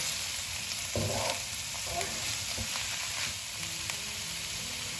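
Shrimp and crab stir-fry in a pan with a constant close sizzle, broken by a few short scraping stirs of the spatula; no one speaks.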